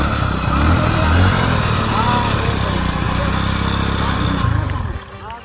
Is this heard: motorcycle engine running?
yes